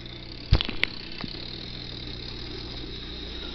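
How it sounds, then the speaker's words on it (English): A tractor engine runs steadily at a low, even drone throughout, with a sharp knock and a few brief clatters near the start. "The sound of the tractor doesn't wake him up."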